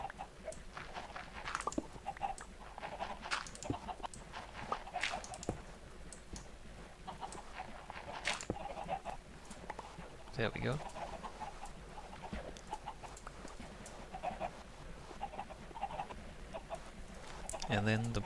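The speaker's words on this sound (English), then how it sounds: "Where I can see the chickens trying to escape." Chickens in the video game Minecraft cluck and coo on and off over a steady low backdrop, with scattered short bird calls throughout and someone speaking briefly.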